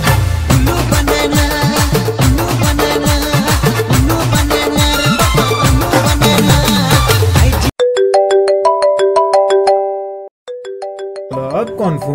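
A mobile phone plays a melodic electronic ringtone with chiming tones loudly over a busy music backdrop, then rings out more cleanly on its own after a brief gap.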